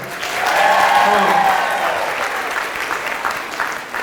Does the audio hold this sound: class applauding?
yes